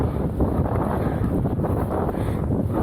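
Steady, loud wind buffets the microphone in open rice fields, a continuous low roar with no voices.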